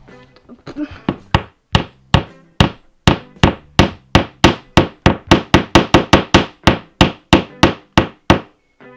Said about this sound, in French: Regardez-le prendre son marteau.